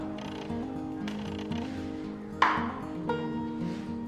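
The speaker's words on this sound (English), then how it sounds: "We're going to remove the dust cap." A metal dust cap comes off an Ironton watercraft trailer wheel hub, giving one sharp metallic clank near the middle and a smaller knock after it, over a steady tonal hum.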